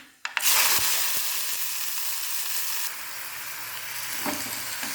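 Chopped spinach sizzles steadily in a hot clay pot while being stirred, a loud, close, continuous frying hiss with faint scraping from the stirring, with no voices.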